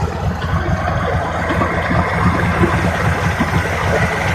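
A 1987 Suzuki DT55 outboard boat motor idling, a steady low rumbling churn with fine rapid pulsing, close and fairly loud, unbroken for the whole stretch.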